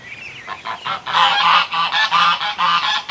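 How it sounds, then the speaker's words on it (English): Several geese honk loudly in a rapid, repeating series of nasal calls, close by, with no talking. "it freaks the ducklings out when the geese start making all the noise"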